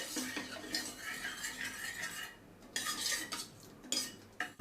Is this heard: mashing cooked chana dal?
yes